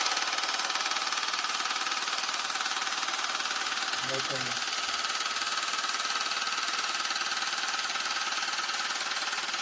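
A GAINSWave at-home device runs loudly and continuously with a harsh, buzzing steady drone close by, while someone briefly speaks partway through.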